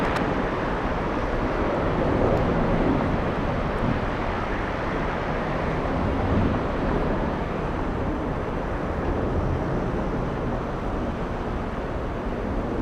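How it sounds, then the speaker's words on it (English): A big Delta jet takes off on the south side of Atlanta Hartsfield-Jackson, bound for Amsterdam, its engines a steady, broad roar that holds at an even level throughout with no voices. "Big plane taking off on the south side. This is a flight to Amsterdam."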